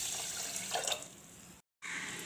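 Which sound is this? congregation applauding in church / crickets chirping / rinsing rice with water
rinsing rice with water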